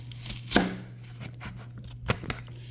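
A knife chops through an onion on a cutting board in a few sharp, separate strikes, close and crisp, with quiet gaps between cuts and no talking.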